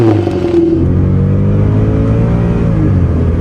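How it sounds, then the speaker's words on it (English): A Mercedes-Benz E55 AMG W211 with a 507 hp engine roars under hard acceleration, its exhaust loud, close and sustained as the revs climb steadily. "the violent acceleration and earth-shattering exhaust noises it makes"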